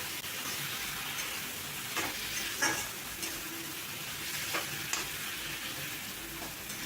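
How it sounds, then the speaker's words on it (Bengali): A spice masala paste for a vegetarian kabuli chana masala is stirred and fried on a high flame. The sizzle is soft and steady, with a few sharper scrapes from the spoon. "এবার ভালোভাবে হাই ফ্লেমে কষিয়ে নেব।"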